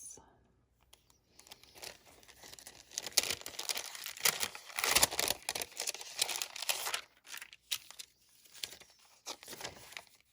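Decorative paper crinkles and tears in bursts as an advent gift from a Simply Stated Designs calendar is unwrapped up close, with faint whispery voice sounds between the rustles.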